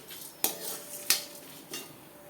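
A utensil stirring tamarind as it dry-roasts in a pan gives three sharp metallic clinks spaced evenly apart, with a quiet background hiss between them.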